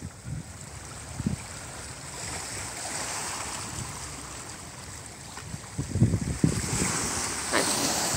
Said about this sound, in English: the sound that they produce when they collide against these rocks